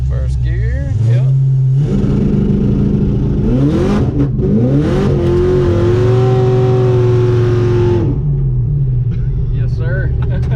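A 1000 rwhp Pontiac G8 accelerates hard in first gear, its engine revving loud and rising steeply in pitch up to the limiter before cutting off, heard from inside the car.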